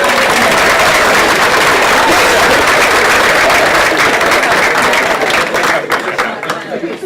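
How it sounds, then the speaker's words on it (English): Middle school banquet audience gives a loud, sustained round of applause for the 7th grade honorees, dense clapping that tapers off near the end. "one more round of applause for our 7th grade"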